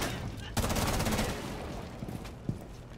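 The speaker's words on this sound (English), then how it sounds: "Got a shot off." Gunfire in the video game Rainbow Six Siege, with a loud burst of rapid shots followed by a couple of isolated reports under dense game noise.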